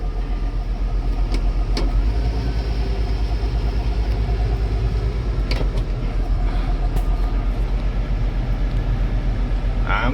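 Tractor 6480 running steadily with a PTO-driven spreader working behind it, a continuous close, loud low engine drone with mechanical rattle throughout, with faint speech at times.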